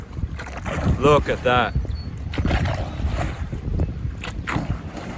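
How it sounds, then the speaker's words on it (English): A rowing boat moved through water by a single rower, its strokes giving repeated splashing and gurgling swells over wind noise, with a voice talking briefly. "he's moving this boat alone quite nicely"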